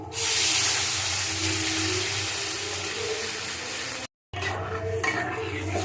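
Water added to amra (hog plum) chutney in a pan, a loud hissing sizzle with stirring that fades slightly, a brief gap, then softer bubbling and scraping in the pan.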